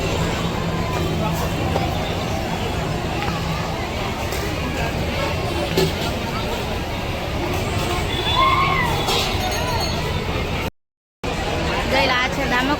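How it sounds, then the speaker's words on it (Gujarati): A large, busy crowd gathers at Damodar Kund on Amavasya for ritual bathing and ancestral offerings, a steady outdoor hubbub of many voices with occasional shouts and vehicle noise. Nearby people talk over it. "બહુ ભીડ છે કાં આજે?"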